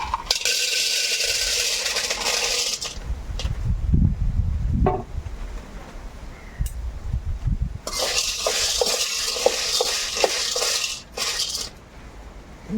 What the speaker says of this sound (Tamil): அப்படியே அந்த மிதமான சூட்டில் அப்படியே நம்ம இது நல்லா வறுபட்டால் மட்டும் போதும்